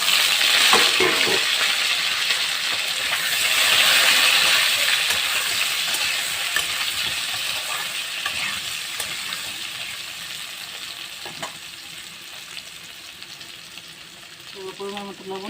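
Mango pieces fry in a pan with dried chili and mustard seeds, a steady close sizzle and crackle with stirring scrapes that gradually quieten over time, with no talk.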